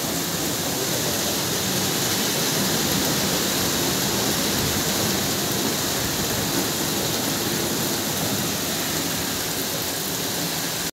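A constant, heavy downpour from Typhoon Enteng hammers outside a flooded home, a dense, even hiss that stays loud for the whole stretch and cuts off abruptly at the end.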